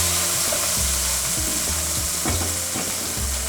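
Garlic seasoning and local green seasoning hit hot soybean oil in a pot, giving a loud, steady crackling sizzle with soft rhythmic knocks of stirring underneath and no voices.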